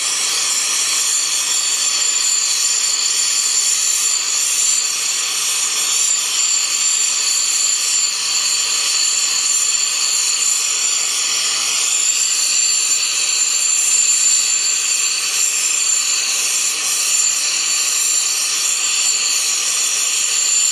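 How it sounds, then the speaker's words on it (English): A torch flame held against a cast iron backgear from a South Bend 9 inch lathe, giving a steady, loud roaring hiss that holds unchanged throughout with no pauses and no voices. "Lay your torch right in there."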